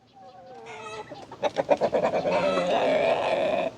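A rooster named Stasiu clucks angrily, a run of harsh, rising, choppy calls close by that swell into a loud, sustained squawking burst, with no talk over it.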